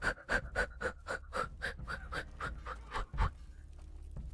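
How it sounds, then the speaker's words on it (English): A character in A Plague Tale: Innocence on PS5 breathes heavily, with a dozen quick, rhythmic panting breaths close up that slow and fade toward the end. "makes characters start breathing louder"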